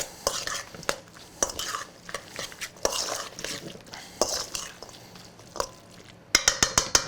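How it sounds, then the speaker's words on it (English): Pre-cooked vegan meatball mixture being mashed and mixed in a bowl, close squelching stirs and utensil knocks in an uneven rhythm, ending in a quick series of sharp taps. "We're going to sort of really give this a good mash together and bind them."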